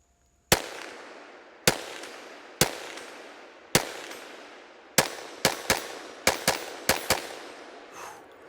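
Sharp gunshots from a .22 Magnum pistol ring out in an uneven string of about eleven, spaced apart at first and then fired rapidly in a tight cluster, each loud crack trailing off with a short echo.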